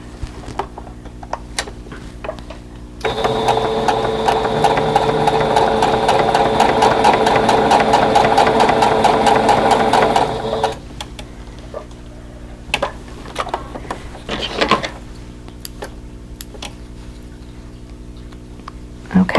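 A sewing machine stitches a quilt block seam with a quarter-inch allowance, running in one sustained burst of about seven seconds between quiet handling clicks.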